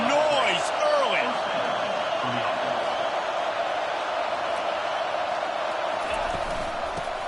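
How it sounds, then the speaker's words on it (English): Steady roar of a large stadium crowd at an Oklahoma State vs TCU college football game fills the whole stretch, with a few distant whistles and shouts rising out of the wash of noise. "This crowd bringing the energy and noise early."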